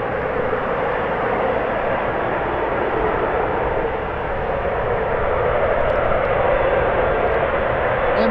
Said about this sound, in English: So the 777 is in final approach.